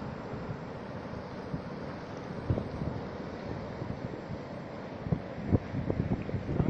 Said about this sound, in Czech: Mazec, ty vlny.